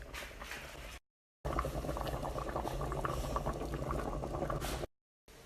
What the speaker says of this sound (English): to stir and thicken this sauce